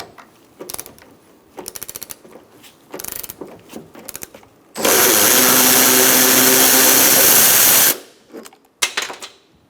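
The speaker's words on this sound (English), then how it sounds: "So I'm going to hold on to my strut and take out this bolt up top." A ratchet spins out the upper strut mount bolt on a 2004-2009 Mazda 3 during front strut and spring replacement, giving one loud, steady mechanical whir lasting about three seconds, framed by scattered clicks and handling clatter.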